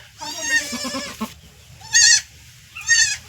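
Goats bleat close by: one long, wavering cry followed by two shorter bleats, with brief quiet gaps between them.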